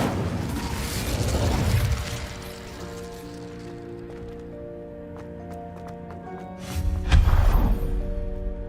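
The Incendio fire spell cast in Hogwarts Legacy bursts out as a loud whooshing rush of flame, then fades into ringing magical tones, before a second fiery burst near the end.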